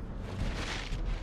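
A turret being destroyed in a mobile MOBA game bursts into a deep, rumbling explosion that booms for just over a second at close range.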